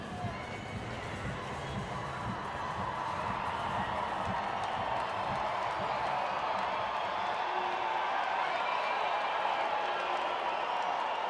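Crowd at a Rockies baseball game at Coors Field in the 8th inning, a broad steady roar of cheering voices that swells slightly over time, with a commentator talking over it.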